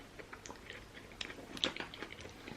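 Close, crisp crunching from chewing, a series of irregular crunchy bites, fairly quiet with no talking.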